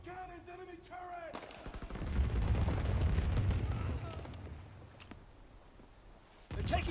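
Anti-aircraft guns in Call of Duty WWII pound out a sustained, rumbling barrage of rapid bursts that swells loud and heavy, then tapers away; a voice speaks briefly before the firing begins.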